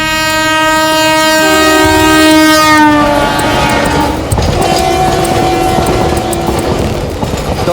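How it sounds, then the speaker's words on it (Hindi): A freight train runs along a broad-gauge railway line: a loud, sustained horn blast gives way to the rumble and clatter of rolling wagons that keeps going close by, with no speech. "ये हमारी मालगाड़ी की रेल है साहब"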